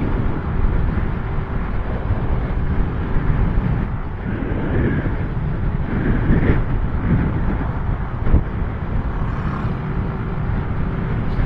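Constant heavy wind buffeting a microphone while riding a motorcycle, a dense low roar with the faint hum of an engine underneath and no talking.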